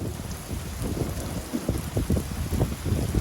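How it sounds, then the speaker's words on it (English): Steady rain pattering on a surface during an evening storm while overlanding, with low rumbling thunder beneath, loud and continuous with no talking. "So second evening, Sunday, and resuming the stormy weather."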